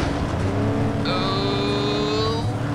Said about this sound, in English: I hear a car coming up behind us.